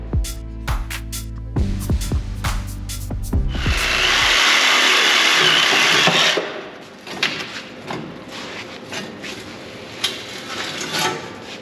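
Rusty frame of a 1965 Mustang being pulled apart, with sharp metallic clanks and knocks at the start, then a loud sustained grinding or tearing roar for a couple of seconds, followed by scattered scraping and rattling.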